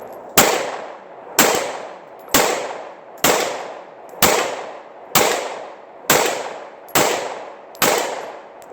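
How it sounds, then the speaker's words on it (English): Glock 26 subcompact pistol fired at steel rims 30 yards out: nine loud, sharp shots at an even pace about one per second, each with a long ringing decay, no talking. "You guys are hearing those pings one after the other on those rims down there?"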